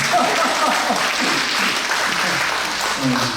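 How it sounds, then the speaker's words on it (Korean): Worship congregation at a Korean church installation service clapping, a continuous, fairly loud patter of applause with voices talking and laughing underneath. "박수 쳐도 괜찮아요"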